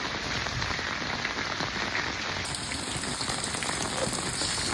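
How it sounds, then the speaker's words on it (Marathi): Steady, dense rain pours down outdoors near farm fields, a close, even hiss of drops hitting the ground and surfaces that continues without pause. "हो पाऊस झाला बघा"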